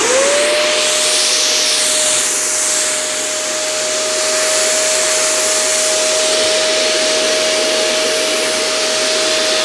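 An HVLP sprayer applies ACF-50 corrosion protectant with a steady, close, continuous airy hiss that holds evenly for the whole stretch, with a faint constant whine running underneath.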